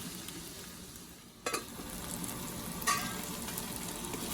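Tomato pieces cooking in a partly covered pan for egg and prawn pulusu, giving a steady low simmering sizzle throughout, with two brief louder clinks or lid knocks midway and no talking.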